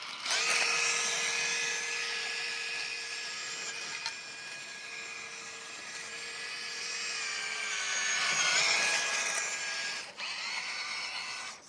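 An FMS FCX18 LC80 brushless RC crawler runs at full throttle in first gear, giving a steady high-pitched electric motor and gear whine that holds throughout, swelling slightly near the end before a brief dip.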